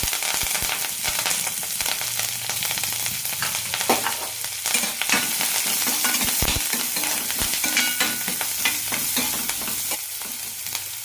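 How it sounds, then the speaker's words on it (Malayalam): Onion and curry leaves fry in ghee with cumin for a moong dal curry, giving a steady close sizzle with frequent scraping stir strokes throughout, no talking. "സവാള ചെറുതായി ചുവക്കുന്നത് വരെ വഴറ്റിയെടുക്കാം"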